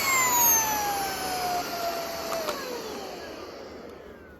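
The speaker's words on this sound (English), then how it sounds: "That is the Wyze vacuum." A Wyze cordless stick vacuum cleaner runs with a steady motor whine and airflow hiss, gradually winding down in pitch as it powers off near the microphone.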